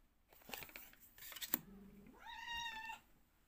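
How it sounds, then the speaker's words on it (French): Cats hiss and yowl briefly, ending in a short rising meow, faint and close, with nothing else around. "les chats, c'est leur petit moment de chamaillerie"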